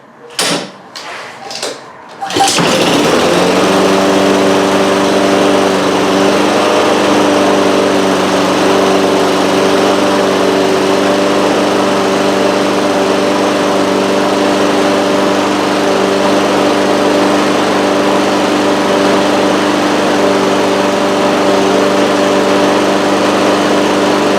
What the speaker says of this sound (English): Now we'll activate the hoop, which will activate the choke